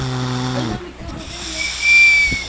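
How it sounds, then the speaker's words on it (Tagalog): A baby snores with a thin whistling tone from the nose, a high steady whistle rising over soft breathing noise, close and quiet. "sumisipol sa ilong"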